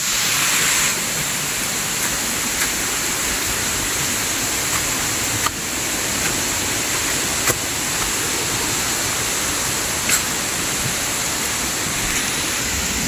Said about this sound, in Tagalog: Daming falls.